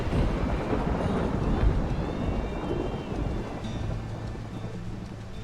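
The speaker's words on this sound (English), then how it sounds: "The storms need to chill, man. They're loud." Thunderstorm in the video game Mount & Blade 2: Bannerlord, with loud, continuous rumbling thunder and steady rain filling the whole stretch, no voices over it.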